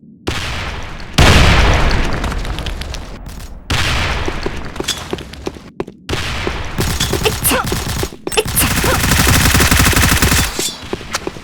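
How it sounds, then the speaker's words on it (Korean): Gunfire and explosive booms from the online shooter game Sudden Attack, including a grenade blast, come in loud repeated bursts separated by short silent cuts, with rapid automatic fire crackling throughout. "수류탄 도착."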